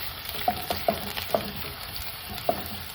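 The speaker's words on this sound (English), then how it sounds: "you stir the onions until they get to be soaked in the oil" Onions fry in oil with a soft continuous sizzle, punctuated by five or six light stirring taps and scrapes of a utensil against the pan, close and quiet, no talking.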